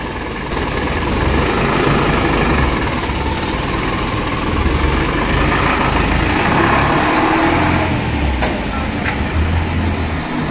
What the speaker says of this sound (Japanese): まあ、多分これリエッセと同じエンジンだね。